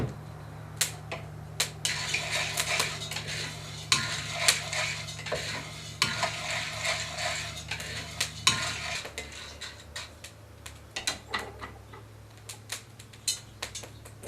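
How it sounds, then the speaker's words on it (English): Coffee beans being stirred while roasting in a cast iron pan, with repeated close scraping and rattling clicks in an uneven rhythm, the beans tumbling against the iron, no talk. "That's why we have to keep on stirring it."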